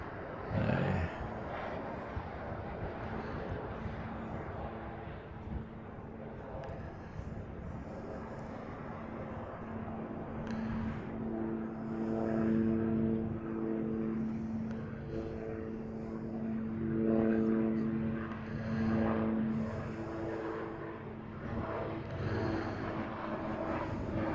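A Boeing 717 airliner taxiing at Honolulu airport, its engines giving a steady low drone with a faint hum that swells slightly and fades, heard from some distance without speech.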